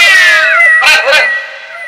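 A man imitates a cat's meow in a drawn-out, wavering vocal cry that slides in pitch, followed by two short, sharp vocal bursts, loud and close, ending in a fading tail.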